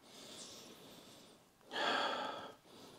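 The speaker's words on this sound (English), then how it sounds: "So let's sniff this one out." Someone sniffs Creed Viking cologne, a green lavender and citrus scent, from a paper scent strip: soft breathing, then one longer, louder close inhale, with no talking.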